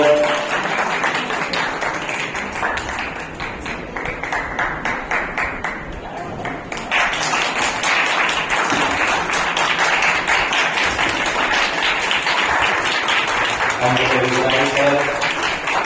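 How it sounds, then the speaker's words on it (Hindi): Audience at an award ceremony applauds, steady rapid clapping that swells after a brief dip and continues loudly, with a voice talking over it near the end. "जोरदार तालियों से स्वागत किया जाए।"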